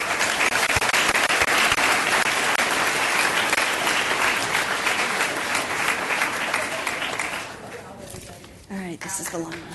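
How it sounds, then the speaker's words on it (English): An audience at an evening school board meeting breaks into sustained applause, a dense wash of clapping that thins out near the end as a voice begins to speak. "Could we also give a round of applause to their parents who are here with us tonight?"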